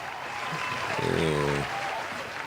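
Canned applause sound effect played during a podcast: a brief burst of crowd clapping in the middle, partly mixed with a tonal sting, with voices murmuring around it.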